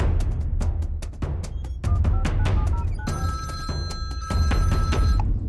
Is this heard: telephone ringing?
yes